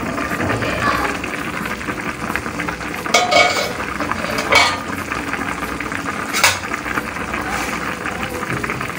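Garlic paste sizzling in a pot of chicken handi base as a spoon stirs it, steady frying hiss with a few louder scraping clinks of utensil against the metal pot.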